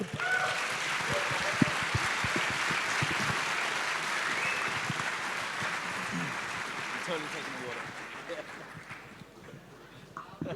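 Audience applause closing a panel discussion at a Bitcoin conference, a sustained broad wash of clapping for about eight seconds, tapering off near the end, with some voices underneath.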